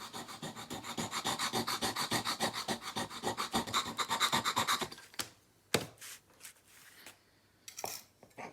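Reclaimed mahogany is sanded by hand to make dust for filling pinholes, giving a steady rhythmic rasping of quick back-and-forth strokes for about five seconds, then a few scattered scrapes and knocks.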